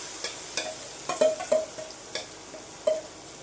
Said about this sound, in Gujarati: જે ગ્રેવી આપણે રેડી કરેલી છે તે તેમાં એડ કરી દઈશું અને સરસ વઘારી દઈશું